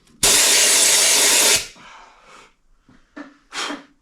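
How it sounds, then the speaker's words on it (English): A sharp, loud blast of compressed air blown into the engine of a 1931 Ford Model A pickup lasts over a second, followed by fainter hissing puffs and breaths. "again, there's a little bit of compressed air"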